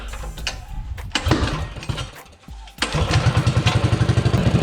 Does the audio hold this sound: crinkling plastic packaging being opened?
no